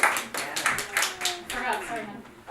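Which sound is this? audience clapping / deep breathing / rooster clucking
audience clapping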